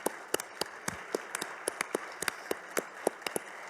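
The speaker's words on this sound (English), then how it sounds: "can we have a round of applause for everybody?" Audience applause at a conference closing: scattered, fairly faint claps at an irregular rhythm, sounding like a small crowd clapping at a distance, with no talk over it.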